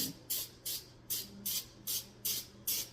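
Eight short hissing bursts of aerosol cooking spray onto cake pans in a steady rhythm, close up, each lasting a fraction of a second.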